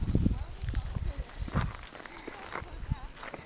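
A herd of cattle walking closer, heavy irregular hoof thuds and shuffling steps on the ground nearby, with people talking quietly over them.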